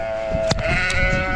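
A newborn lamb bleats once, a short, sharp high cry, close to the microphone, with a faint steady hum and light outdoor noise beneath.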